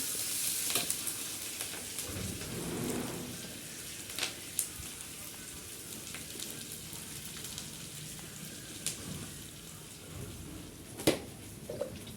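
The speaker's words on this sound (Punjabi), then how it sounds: "ਜਦ ਤੱਕ ਸਾਡੇ ਪਿਆਜ਼ ਭੁੱਜਦੇ ਆ" Onions frying on a desi stove, a soft steady sizzle and crackle with occasional louder pops and stirring clatter, moderately close and alone without talk.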